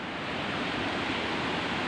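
Strong wind roars across a high mountain summit on Mt. Tarak, a dense, steady, loud rush buffeting the microphone with no voices.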